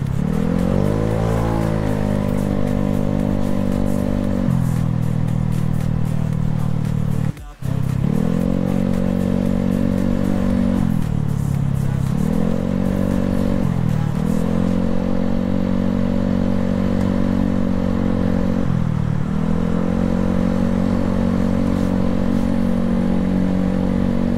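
A Honda Scoopy scooter engine hums steadily up close at night in Makassar traffic, rising and dipping in pitch as it speeds up and slows, with road noise around it.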